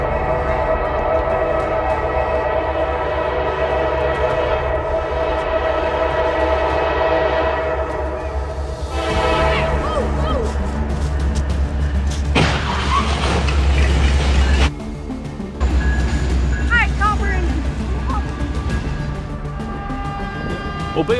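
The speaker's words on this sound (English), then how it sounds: "Driver escapes unharmed after train crashes into stalled car in Monroe" A train runs through a level crossing and sounds its horn, where it struck a stalled car in Monroe County. A loud, sustained low rumble carries a drawn-out horn blast midway, and voices can be heard over it.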